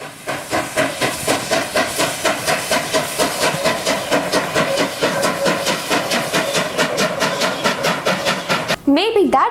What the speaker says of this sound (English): steam locomotives looked amazing and sounded even more